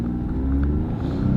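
A Lexus car accelerates with a steady low engine drone that swells slightly, heard from inside the cabin over a short stretch.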